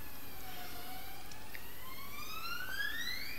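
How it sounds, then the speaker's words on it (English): Distant police sirens wail with rising and falling tones, faint but continuous over low traffic hum. "You can either hear the police cars or whatever they are."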